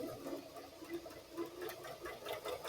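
A sewing machine stitches binding onto a competition quilt, a steady, quiet mechanical whir with a soft rhythmic pulse running continuously at low level, with no talking.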